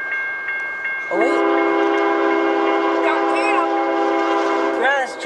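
A loud multi-tone horn on a CSX freight train blasts steadily for several seconds over rumbling rail noise, with a fainter horn note before it swells in.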